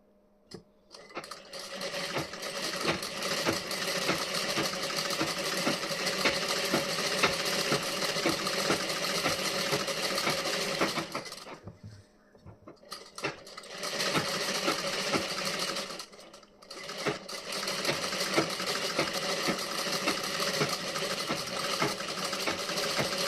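Sewing machine running steadily to stitch along the front edge of a blouse, a loud, continuous close-up whir broken by two brief pauses.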